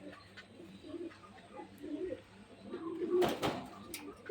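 Pigeons at a breeder's farm coo softly and intermittently at close range, broken by a sharp clattering flurry, like flapping wings, partway through.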